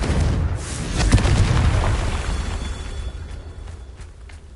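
A Confringo fire spell explodes in the Hogwarts Legacy video game, a loud booming burst up front that rumbles and fades over the following seconds.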